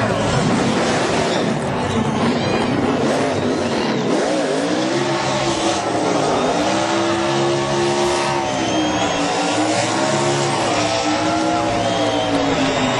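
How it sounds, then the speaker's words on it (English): A NASCAR race car doing a victory burnout on the Mexico City road course after the 2008 Corona Mexico 200, engine roaring steadily with tire squeal for the whole stretch, loud and close, with crowd noise and commentary voices underneath. "One of the best burnouts"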